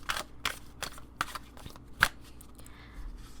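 Tarot cards shuffled by hand in a series of quick, papery riffling bursts with a sharper snap near the middle. The bursts are close and crisp, and no one speaks.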